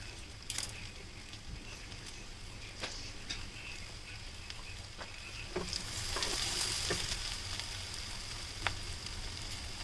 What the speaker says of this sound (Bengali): হাঁড়িতে সরিষার তেল দিয়ে দিলাম রসুন কুচি, পেঁয়াজ কুচি আর গোটা কাঁচামরিচ।